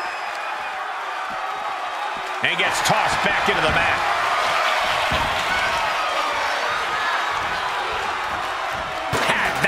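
Crowd noise rises and cheers in a WWE 2K24 video game wrestling arena during an NXT match, a steady roar with slams and impacts, under ongoing commentary.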